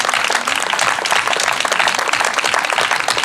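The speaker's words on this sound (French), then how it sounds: "on va l'applaudir très fort" An audience at an association forum and medal ceremony applauds loudly for their president, a dense, sustained roar of many clapping hands that continues evenly throughout.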